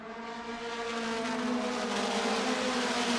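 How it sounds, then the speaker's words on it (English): Pavement midget race cars roar back up to speed on a restart at Lucas Oil Indianapolis Raceway, a dense, steady engine drone rising in pitch as the pack accelerates, loud and continuous with no talk. "They find the throttle. We're back underway."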